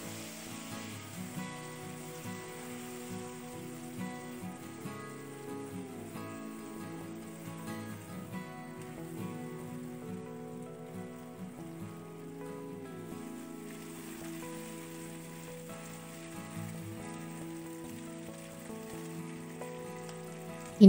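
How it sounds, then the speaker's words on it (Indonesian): Green chili sambal sautés in leftover squid frying oil in a pan, a steady soft sizzle running continuously under faint background tones, fairly quiet and unbroken. "Kita tumis dengan minyak sisa goreng cumi tadi."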